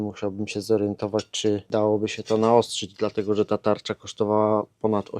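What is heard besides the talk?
No everyday noise stands out behind the speech.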